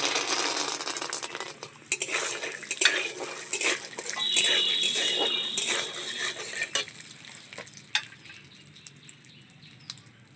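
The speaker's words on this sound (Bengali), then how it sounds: "এবার বাদামটা ভেজে নেব।" Peanuts dry-roasted in a pan with a pinch of salt, stirred so the nuts rattle and scrape against the metal in a steady run of close clicks and taps, with no voices.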